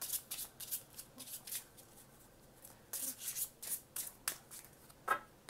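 A deck of cards being shuffled in several quick riffling bursts, crisp and close, with short pauses between them.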